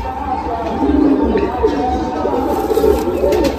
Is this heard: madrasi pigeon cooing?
yes